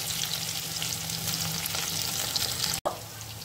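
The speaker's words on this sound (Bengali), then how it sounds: "তো এটা করতে করতে আশা করি আমার পটলটা ভাজা হয়ে যাবে।" Pointed gourd (potol) sizzles steadily in a pan of hot oil, a continuous crackling fry heard close up, briefly cut off near the end before resuming.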